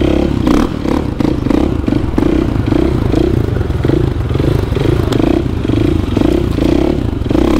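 Motorcycle riding downhill, heard as a steady engine buzz with rhythmic clattering and scraping pulses repeating throughout, close and fairly loud.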